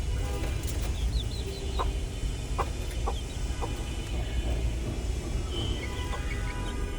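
Chickens cluck in short scattered calls over a steady outdoor background hum, with small birds chirping faintly now and then.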